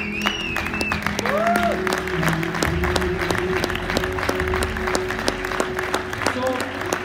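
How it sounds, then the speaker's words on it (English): Steady, full applause fills a hotel venue at a motivational seminar in Oslo, with a crowd clapping continuously throughout, tonal voices and background sounds faintly mixed underneath. "Give yourself a warm applause."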